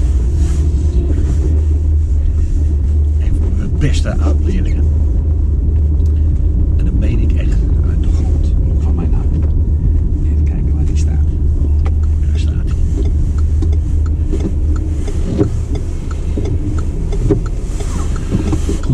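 Low engine rumble and road noise from inside a car driving slowly through a busy town near a train station, continuous throughout, with someone talking over it in Dutch.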